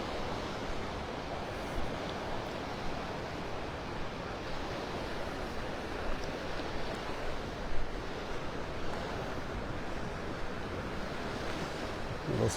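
Ocean surf at Delnor-Wiggins beach in North Naples, Florida, in the evening, a continuous broad wash of breaking waves with wind buffeting the microphone, steady and fairly loud, with no voices.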